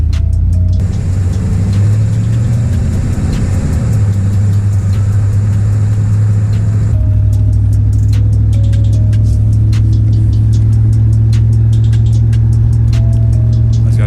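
A 1992 Camaro Z28 engine runs steadily with a deep, continuous hum, close and loud, shifting slightly in pitch as the car drives.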